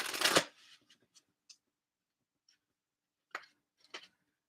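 Enchanted Map Oracle cards are shuffled in one loud, close riffle at the start, followed by a few soft taps and clicks of the cards being handled.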